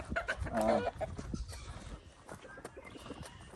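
Chickens on a farm in Canada cluck and murmur close by, with soft scuffing and shuffling noises around them.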